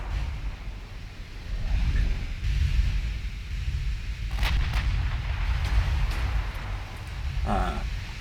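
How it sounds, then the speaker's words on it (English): Naval shells clang off ship armor during a battle in the Ultimate Admiral Dreadnought naval warfare game, sharp metallic impacts cutting through a continuous low rumble of gunfire and sea noise. "Sound of shells bouncing off"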